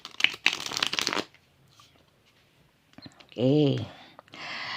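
Tarot cards shuffled and drawn by hand: a close, busy flurry of riffling and slapping card sounds, then a pause and a short voiced sound near the end.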